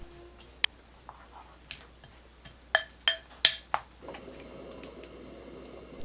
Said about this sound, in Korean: 계란에 팽이버섯, 양파, 파, 고추 모두 넣어 섞어줍니다.